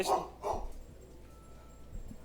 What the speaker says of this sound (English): there's an ambulance driving by, setting off the dogs.